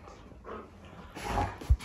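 A puppy whimpers at dinner time with soft, thin whines building into a louder cry and a brief yip at the end, close by in a quiet room.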